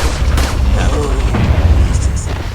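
An RPG rocket explodes in the Resident Evil 4 video game, a heavy booming blast with rumbling low end, followed by debris and game effects while someone talks over it.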